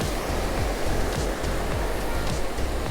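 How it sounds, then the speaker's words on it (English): Surf washing onto Cromer beach, a steady broadband roar with low rolling swells breaking every half second or so, close and continuous with no talk. "Getting them waves."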